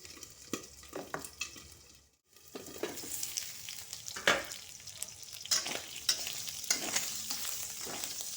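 Salted squid fries in a pan, a steady crackling sizzle broken by scraping stirs, with one short silent pause before the frying resumes at close range.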